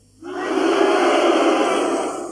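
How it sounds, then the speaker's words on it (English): Floor audience at a 1980 concert in London erupts into a sudden, loud, sustained wall of booing and hissing from a dense crowd, steady throughout with no single voice standing out. "Just the people on the floor, please,"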